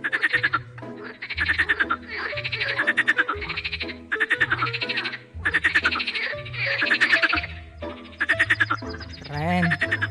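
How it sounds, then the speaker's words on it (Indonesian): A green frog croaks in repeated bursts of rapid, raspy pulses, about eight rhythmic calls close and loud, each followed by a brief pause. "Ini adalah katak hijau teman-teman."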